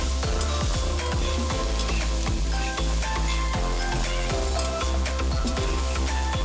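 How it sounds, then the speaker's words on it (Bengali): Leftover cooked rice with turmeric and chili powder sizzles loudly in a pan, with a dense constant hiss and a regular series of spatula scrapes and knocks as it is stirred, close up and with no voices. "যে ভাতটা ছিল দিনের সেটা ভালো করে একটু ভেজে নিতে হবে"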